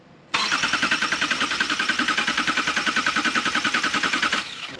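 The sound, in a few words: 2018 Subaru Crosstrek engine cranking in clear flood mode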